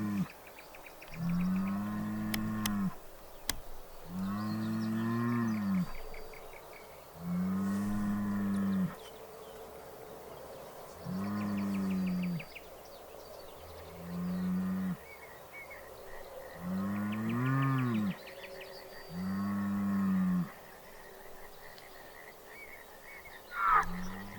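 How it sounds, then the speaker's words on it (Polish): A bull met on a rural road in Poland bellows again and again, about eight long, deep moos spaced a few seconds apart, close and loud against a quiet outdoor background. "właśnie na naszej drodze spotkaliśmy byka, ale krowę byka. Nie brzmi on zbyt pokojowo."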